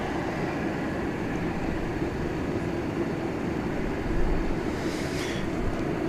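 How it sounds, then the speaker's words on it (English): Old four-engine Super Cargomaster cargo aircraft with a 36-year-old airframe at DFW Airport, a distant, steady broadband engine roar that swells slightly midway, no voices. "There you got a 36-year-old airframe continuing to do business as a cargo carrier, a super cargo master"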